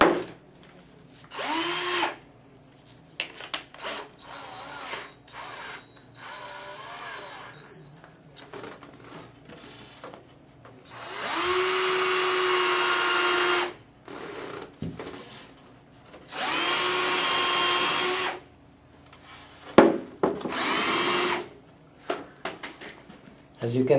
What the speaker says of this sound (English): So I need to drill a hole in the corner right here